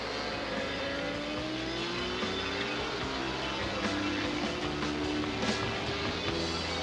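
A racing motorcycle accelerating on a road course, its engine note climbing through several gear changes with rising whines, a steady onboard roar with wind noise.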